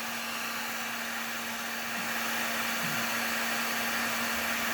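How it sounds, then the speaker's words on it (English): A heat gun held three or four inches from the camera glass of a Galaxy S20 Ultra blows a steady, broadband airy roar with a constant hum, continuous and close throughout with no talking. "with the heat gun about 3 or 4 inches away"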